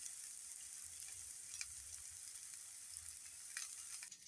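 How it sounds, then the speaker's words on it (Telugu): Raw banana pieces frying in a pan for a banana curry, giving a faint, steady sizzle with light occasional clicks of stirring throughout. "తర్వాత అరటికాయ ముక్కలు కూడా వేయాలండి. వేసి వేయించాలి బాగా."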